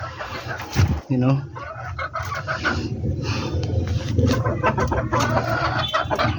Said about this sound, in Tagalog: Siya yung kauna-unahang sisiw natin.